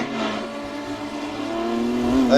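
A BMW GT3 race car at Imola drones past with a steady, buzzing engine note that swells and climbs in pitch toward the end, loud and close with no voices.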